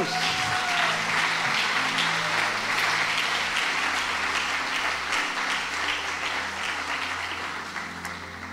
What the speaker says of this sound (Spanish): Un aplauso a Jesús.